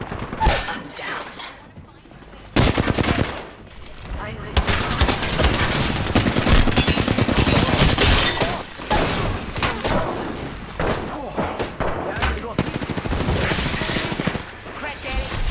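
Rapid bursts of automatic gunfire in Apex Legends, loud and dense, repeating in volleys through the whole stretch with a few single shots between, while a player voice talks over the firefight.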